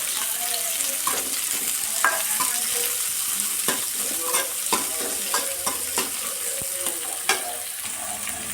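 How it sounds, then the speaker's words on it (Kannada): Dried red chillies fry and sizzle in a pan, with a steady crackle broken by scattered clicks and scrapes of stirring, close and fairly loud throughout. "ಒಂದು ಸ್ವಲ್ಪ ಒಣಗಿದ ಮೆಣಸಿನ್ಕಾಯಿ. ಇದು ಫ್ರೈ ಮಾಡ್ಕೊಳ್ಳೋಣ ಇವಾಗ ಚೆನ್ನಾಗಿ ಕೆಂಪಗಾಗಂಟ."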